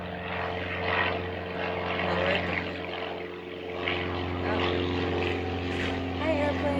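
Propeller airplane passing overhead, a steady droning engine hum with a low pulsing tone that lasts throughout, moderately loud and distant, while a person speaks calmly over it.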